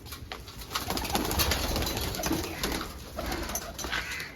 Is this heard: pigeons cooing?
yes